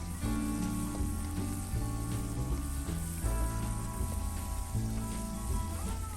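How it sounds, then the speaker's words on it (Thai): Tomatoes sizzle as they are stir-fried in mustard oil, giving a steady, close crackling hiss with soft scraping stirs under it and no talking. "ผัดให้มะเขือเทศสุกค่ะ"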